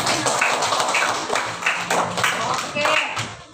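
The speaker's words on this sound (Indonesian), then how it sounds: "Oke, tepuk tangan dulu" Children clapping hands together in a second-grade elementary classroom during a lesson, a few rhythmic claps over loud classroom chatter and voices.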